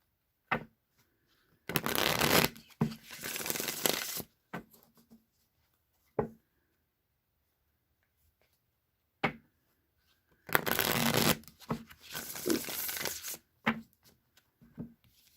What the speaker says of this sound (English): I'm going to give these a few shuffles and then see what comes out.